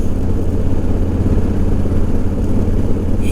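A Honda Africa Twin motorcycle engine drones steadily at close range while riding, heavy low rumble and wind noise filling the whole stretch without letup.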